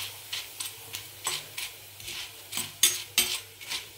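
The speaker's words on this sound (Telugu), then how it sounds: "నేను ఈ వీడియోలో అటుకుల్ని నూనెలో వేయించుకుంటున్నానండి" Flattened rice (atukulu) frying in hot oil inside a metal sieve, with a steady sizzle under rhythmic scraping stirs that come about twice a second, close and fairly loud, with no voices.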